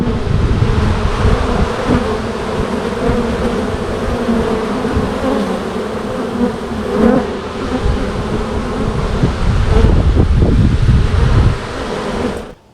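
Honeybees swarming around a hive after winter, a loud, steady, close buzzing drone of many insects that swells slightly near the end, with no talking.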